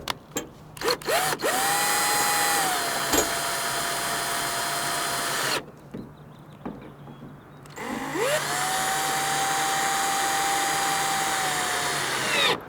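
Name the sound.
power drill tightening screws on a truck bed lock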